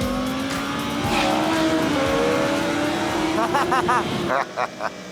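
A motorcycle engine drones steadily on a race track, rising in pitch as it accelerates, with a French-speaking voice instructing the rider over it near the end.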